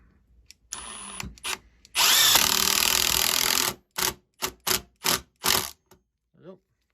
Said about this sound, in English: So when I need a tool to put in screws real quick, I use my impact driver, and you'll see the difference.